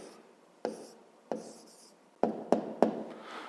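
Pen writing an answer on paper for a fifth-grade maths exercise, a few distinct taps and short scratchy strokes separated by pauses, close and fairly clear.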